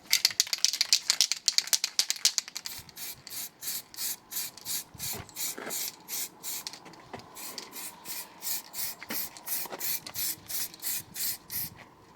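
A can of Motip 800-degree high-temperature spray paint is shaken hard, its mixing ball rattling in a rapid flurry and then settling into a steady, rhythmic series of rattles, close and fairly quiet.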